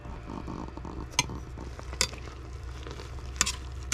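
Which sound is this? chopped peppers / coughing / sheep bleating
chopped peppers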